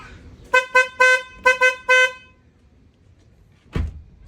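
The high-tone horn of a Suzuki S-Presso car sounds in six short, bright honks, two quick pairs followed by a slightly longer pair, close and loud, then a dull knock after a pause.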